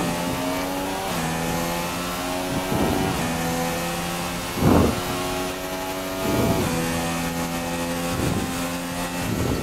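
Several racing car engines in the video game F1 2016 roar and rev continuously at the Russian Grand Prix, with rising and falling pitch as they shift gears, plus louder bursts as cars pass close by.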